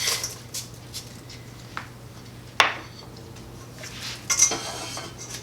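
Sauce and bacon crumbles are mixed into cooked potatoes for a loaded cheesy potato side dish: quiet, sparse clinks and scrapes of a utensil against a dish, with one sharper knock partway through and a few light taps near the end.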